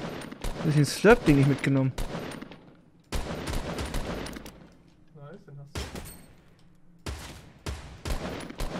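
Gunfire in the Fortnite video game, bursts of shots that come and go between stretches of excited talk, with a loud spell early on and scattered volleys later.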